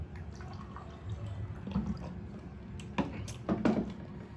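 Water spills from a knocked-over glass during a Filipino home meal of ginataang gulay and fried bangus, heard as a few wet splashes and drips with small clunks, close to the microphone.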